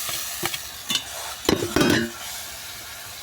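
Roasted mashed eggplant is stirred into scrambled egg in a hot pan. A soft background sizzle is broken by several distinct scraping, clattering stirs, clustered together before a quieter tail.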